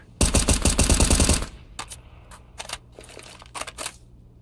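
Video game gunfire: a loud, rapid automatic burst rattles for over a second, followed by several short separate bursts and single shots at a quieter level.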